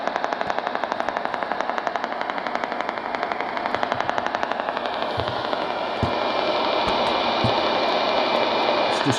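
Spark gap transmitter interference comes through a Tecsun PL-990 AM radio tuned to a dead spot: a loud, rapid buzzing crackle of regular pulses over static hiss, shifting to denser steady noise partway through, with no talking.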